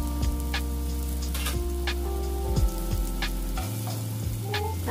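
Onions sizzling in hot oil as they are sautéed and stirred for pancit guisado with longganisa, a steady close frying crackle with scraping stir strokes over it.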